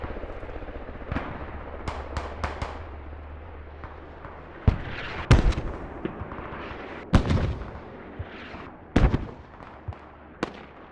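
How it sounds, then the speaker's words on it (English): Mortar fire and distant explosions from a large 50-versus-50 multiplayer war game boom out in sharp, scattered blasts over several seconds, some louder and nearer, others faint. "We are mortaring now."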